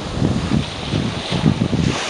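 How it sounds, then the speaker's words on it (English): Steady wind of about 12 to 15 knots buffets the microphone on a sailboat under spinnaker off Cabo Pulmo, a continuous close roar with rhythmic gusty swells and water rushing beneath. "Right now I'd say we probably have maybe 12 to 14 knots, maybe 15 knots of wind."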